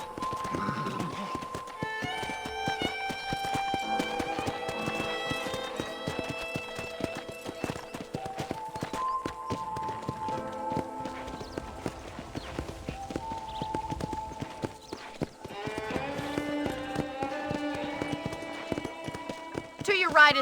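Horse hooves clip-clop at a trot in the video game Red Dead Redemption, a steady close rhythm under a man's speech and tonal background music.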